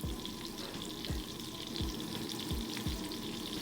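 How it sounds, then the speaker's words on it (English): Oil in a pan beginning to sizzle before potato cakes go in, a steady close frying hiss with a few soft low knocks recurring at intervals. "Our oil is starting to sizzle."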